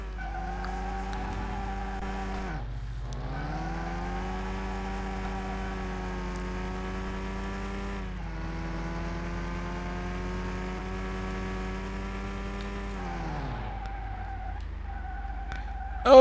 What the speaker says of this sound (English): This is spinning the wheels in 4th gear.